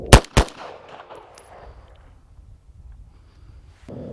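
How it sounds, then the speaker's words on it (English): A Beretta M9A3 9mm semi-auto handgun fires a rapid double tap: two sharp, loud shots about a quarter second apart, followed by a fading echo and then quiet. "you fire 2 rounds rapidly using a single sight picture"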